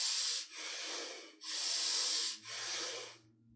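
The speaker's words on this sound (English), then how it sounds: "You inhale and expand your belly, you exhale and squeeze your belly." Belly breathing during a meditation exercise, with deep inhales and exhales through the nose. Two full cycles of loud, close, breathy rushes alternate in a steady rhythm, and no one speaks.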